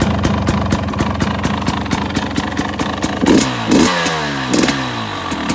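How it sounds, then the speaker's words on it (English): A 2021 KTM 300 XC-W Erzbergrodeo two-stroke fitted with an FMF exhaust pipe idles with a rapid, throaty, steady pulse up close, then is blipped several times into short, rising revs. "Go to the 2021 with the FMF pipe on it. A little bit more throaty."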